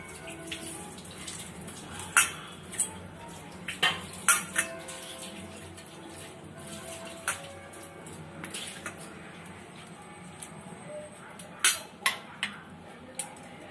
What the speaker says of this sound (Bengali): পরিমাণ মতো নুন দেবো, দিয়ে ভালো করে মাখিয়ে নিচ্ছি।